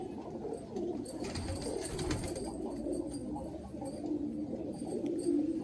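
A male Chotiyal Madrasi show pigeon coos in soft, repeated low throaty calls, close by, with faint ambient noise around it.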